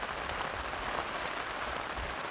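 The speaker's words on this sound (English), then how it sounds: "the sound of rain in a tarp and a tent" Heavy rain drumming on a tarp and tent during a solo wild summit camp in Scotland, a dense, steady patter close overhead with no voices.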